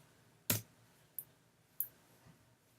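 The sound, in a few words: computer mouse clicking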